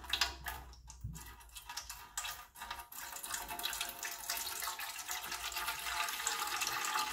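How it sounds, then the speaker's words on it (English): Water is poured into a weighing scale, giving a faint, steady trickle and splash that runs throughout with a few light knocks near the start. "I'm going to take this water and I'm going to pour it into the scale"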